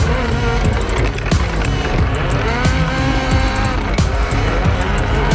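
Loud, continuous engine roar of three rallycross cars in Nitro Rallycross, with revving, tire noise and sharp skids, the sound dense and unbroken throughout.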